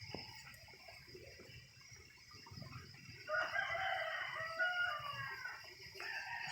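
A rooster crows loudly and close by in a rural garden, one long drawn-out call following a quieter stretch of background noise.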